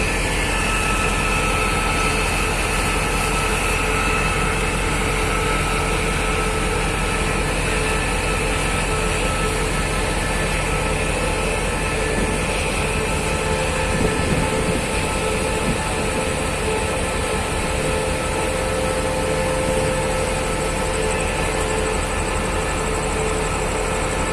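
New diesel locomotive 5207/5217 idles steadily with its test train at Bang Sue Junction, a continuous loud engine drone and hum holding throughout with no break.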